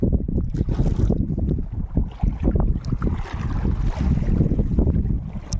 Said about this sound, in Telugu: పొద్దుపోతే గాలి ఎక్కువగా ఉంటుంది